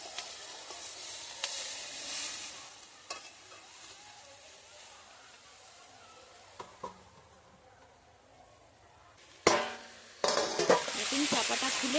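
Egg bhurji with spring onions being stirred in a pan: a low sizzle with occasional scrapes and clanks, then a louder hiss of frying rising near the end.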